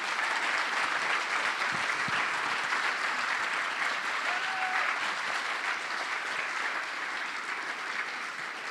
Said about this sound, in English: let's have an amazing round of applause for our MCs